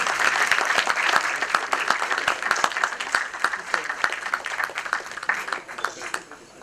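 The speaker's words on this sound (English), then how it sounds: "A huge round of applause, ladies and gentlemen, for Preeti Shah." Audience applause at an IT awards ceremony, a dense, steady round of clapping from a large crowd that continues throughout and slowly fades toward the end.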